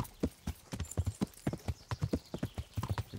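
Horse hooves clop steadily across rocky ground in the game Kingdom Come: Deliverance, a brisk, even rhythm of close, distinct strikes throughout.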